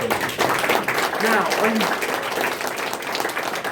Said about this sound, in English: are you clapping because you're glad I'm done?